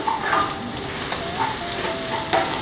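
Chicken gizzard and liver bopis sizzles in a pan as it is stirred, with a steady frying hiss and soft spoon scrapes at an even pace.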